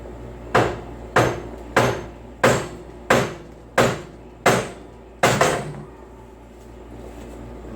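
Eight sharp hammer taps land close by at an even pace during a steering pivot axle seal replacement on a Kubota BX tractor. Each strike rings briefly before a quiet tail.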